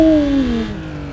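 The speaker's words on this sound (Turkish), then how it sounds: "Sesi değişti arabanın be." A car engine in a modded Need for Speed: Most Wanted holds a steady whine whose pitch slides gradually downward as it decelerates, fairly loud and close, with no voices.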